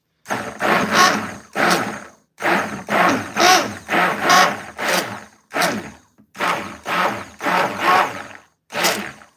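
A blender mixes cake batter in a bowl in a run of loud, separate whirring pulses, each a second or less, with short silent gaps between them and no talking.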